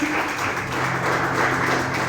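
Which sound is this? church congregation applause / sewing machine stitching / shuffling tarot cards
church congregation applause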